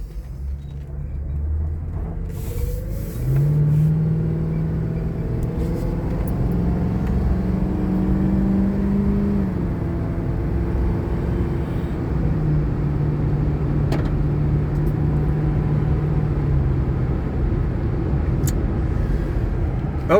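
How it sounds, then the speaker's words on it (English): A 2011 Ford Crown Victoria Police Interceptor accelerating through its gears from inside the cabin, a deep engine rumble rising in pitch and dropping at each shift, then settling into a steady cruising drone without talk. "I am going to be quiet here for a second so you can hear the car run through the gears"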